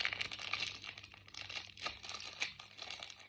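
Crinkly plastic blind-pack packaging around a micro mini figure is crumpled and torn open close up, with continuous rustling and sharp crackles and no talking.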